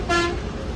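A short, loud bus horn blast cuts over the constant rumble of the bus on the road from Cuddalore to Pondicherry, with the rumble continuing after the honk stops.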